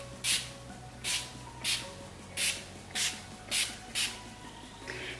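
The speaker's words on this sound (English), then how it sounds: "I do use Urban Decay De-Slick just to catch all the oils in my T-zone" Urban Decay De-Slick setting spray is misted onto a face in seven short, evenly spaced hissing pumps, close and crisp, with faint background hum and no talking.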